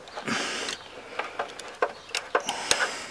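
A long screw is unscrewed from a Velux solar roller shutter on a roof, with a run of close, irregular small clicks, ticks and scraping knocks.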